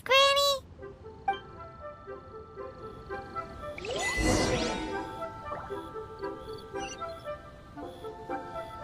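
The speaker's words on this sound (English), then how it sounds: "Indeed, this is the cleansing bell." A cleansing bell in the game Genshin Impact rings out in a bright, sweeping chime of shimmering tones that swells and fades over a few seconds. Light game music and chimes play around it.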